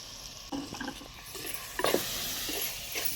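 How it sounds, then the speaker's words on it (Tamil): Spices, garam masala and chilli powder being sautéed in a pan for vada curry, a soft sizzle with scattered stirring scrapes and clinks, faint and close. "கொஞ்சம் தனி மிளகாத்தூள், கரம் மசாலா, அதுக்கப்புறம் குழம்பு மிளகாய்த்தூள் எல்லாத்தையும் போட்டு நல்லா வதக்கிக்கலாம்"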